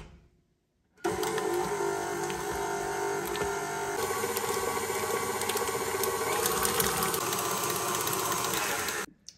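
Mascarpone being whisked with egg yolks, likely with an electric mixer, gives a steady loud whirring drone with a faint mechanical rattle that runs unbroken for about eight seconds after a short silence, and no voices can be heard.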